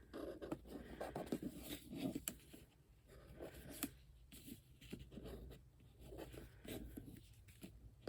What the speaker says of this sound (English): So all you have to do is just draw around the edge.